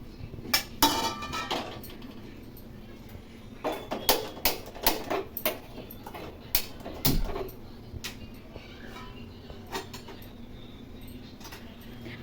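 Garlic, curry leaves, cumin and urad dal dry roast in a pan without oil, with sharp clinks and scraping taps from a spoon against the pan coming in irregular bursts, close and fairly quiet.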